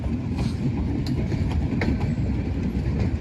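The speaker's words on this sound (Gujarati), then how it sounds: "આવી ગઈ આપણી ટ્રેન સાબરમતી" A short five-coach metre gauge train on the Veraval–Delvada–Junagadh line rolls past loudly, its wheels giving a steady clickety-clack with rhythmic clicks over a heavy rumble.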